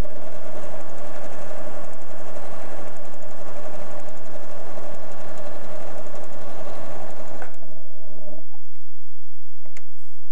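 A PFAFF creative 1475 sewing machine running a darning stitch, a loud, steady, rapid whirring hum for most of the stretch, then stopping, with a few soft clicks and light mechanical noise near the end.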